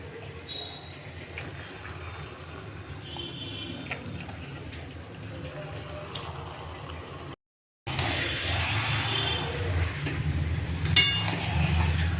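Mutton pieces frying and being stirred in a spiced masala with green chillies, a steady close sizzle with scraping stirs, briefly cut to silence midway, then a louder burst of frying.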